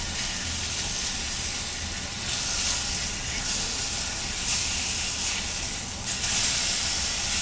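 Heart and liver sizzling in a pan with olive oil, a loud, continuous hissing fry that carries on evenly throughout with slight swells and no voices.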